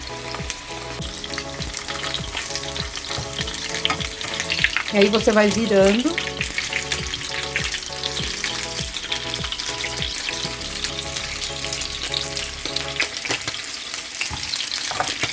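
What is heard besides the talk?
beef feet (mocotó) searing and sizzling in a pan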